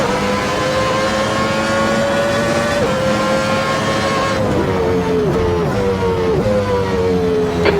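A Williams FW14B Formula 1 car in the Assetto Corsa racing game screams at high revs, its steady engine whine punctuated by several quick gear shifts with brief pitch drops, loud and continuous with no talk.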